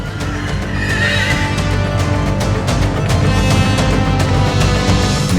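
Carriage team horses whinny loudly amid a dense, steady outdoor din, with hoof and harness noise blending into the continuous rumble.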